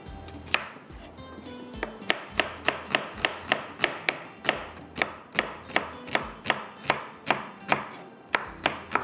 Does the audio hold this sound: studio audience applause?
no